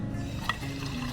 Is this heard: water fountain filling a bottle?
yes